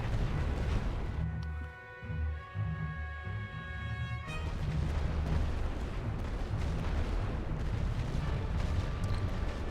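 Artillery fire in The Great War: Western Front, a World War I trench strategy game, booming continuously as dense, loud, overlapping blasts and rumble with a sustained tonal hum in the middle, no speech.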